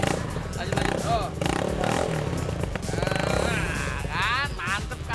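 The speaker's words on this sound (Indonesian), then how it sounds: "Baru ganti knalpot racing." A motorcycle fitted with a freshly installed aftermarket racing exhaust revs and rumbles loudly and continuously close by, while people talk and chatter over it throughout.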